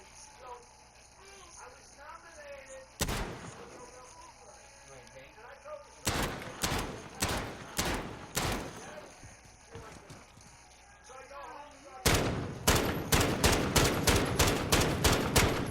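Gunfire in the Modern Warfare video game, a single loud shot followed by rhythmic volleys of evenly spaced, sharp shots that grow faster toward the end, with a voice talking quietly underneath.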